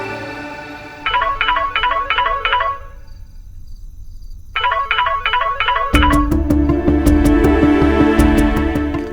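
A telephone rings during a call in a Hindi television drama scene, with repeated warbling trill bursts, a short silent gap, then more trills. Louder, busier music rises over the final seconds.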